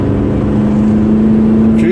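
A turbocharged Toyota car cruises with a steady, unbroken engine drone and a constant low hum that holds throughout, near and fairly loud, rising slightly in tone at the very end.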